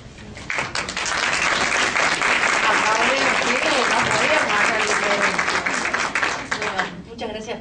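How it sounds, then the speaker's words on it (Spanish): A hall audience at a regional family law conference bursts into applause, dense clapping that rises quickly, holds strong and loud for several seconds, then thins out near the end as a voice faintly returns. "Muchas gracias por el aplauso anticipado."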